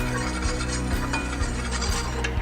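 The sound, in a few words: flour cooking in a pan for lobster mac and cheese sauce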